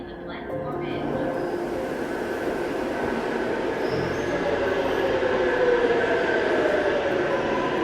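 New York subway L train rolling into a platform in Brooklyn, a steady loud rumble of wheels on rails with faint metallic squeal building throughout, and a recorded announcement voice heard over it.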